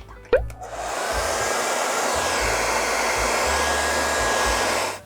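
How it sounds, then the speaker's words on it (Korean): A hair dryer blows steadily on watercolor paint on paper, a continuous loud whooshing roar that starts after a brief click and runs without a break almost to the end. "그래서 어느 정도 하고 나면 드라이기로 말려주셔야 됩니다."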